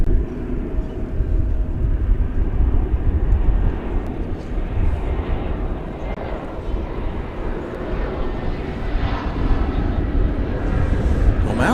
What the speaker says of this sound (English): break away to see the arrival of a Frontier flight with Hugh the Manatee on the tail